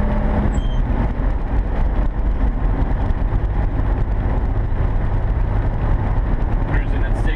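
A 1979 VW camper van cruises down the road at about 60 mph, its engine and road noise forming a steady, unbroken drone at constant loudness for the whole stretch.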